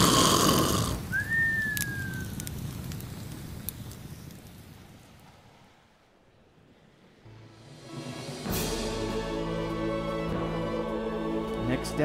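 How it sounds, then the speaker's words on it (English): After a brief whistle and a stretch of soft, hissing rain, a pig character's loud, buzzing snore in an animated short film rumbles in and drones on steadily. "it wasn't anywhere near as loud as Herman's snoring"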